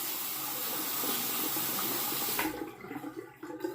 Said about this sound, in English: Well, I'll wet the razor.